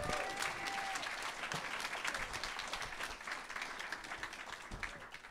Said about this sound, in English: Massive round of applause for AJ.